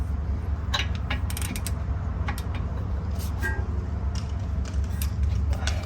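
A ratchet tightening the brake caliper bolts on a Honda Accord or Civic during a front brake pad and rotor job, with rapid bursts of clicking over a low continuous rumble, close and fairly loud.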